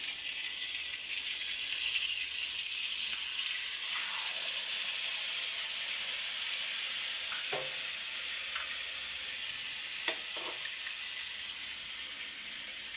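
A pork chop fries in a pan with a steady, close sizzle and hiss throughout, broken by a few faint utensil clinks and scrapes.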